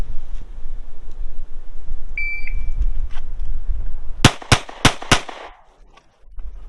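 During a timed range drill, a shot timer beeps, then four rapid pistol gunshots crack out close and loud, evenly spaced within about a second.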